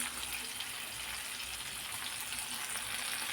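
Green chilies sizzle and fry in a pan while pizza sauce is being made, a faint, steady hiss of oil crackling throughout with no voices.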